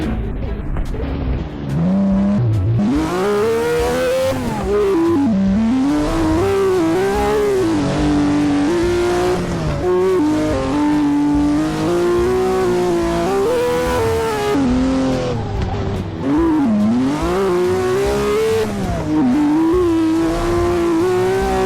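A car drives in a Roblox video game, its engine whining steadily up and down in pitch with rising and falling revs, loud and continuous throughout.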